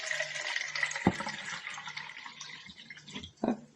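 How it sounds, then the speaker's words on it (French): Water running and splashing as it is poured into a measuring container to reach one litre, a continuous trickle with a couple of sharper splashes or clunks, fairly close and without speech. "J'ai plus assez d'eau, je vais en remplir."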